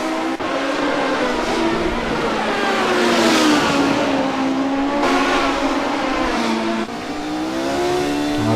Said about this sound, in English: Moses a little too quick on the throttle there